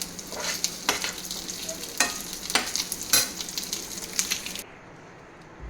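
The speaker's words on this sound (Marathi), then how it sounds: "आता ही दुसरी साईड पण आपले प्रॉन्स फ्राय झालेले आहेत छान दोन्ही साईडनी." Prawns coated in rava sizzle steadily in a frying pan, with repeated scraping and turning clicks over a continuous close hiss that cuts away near the end.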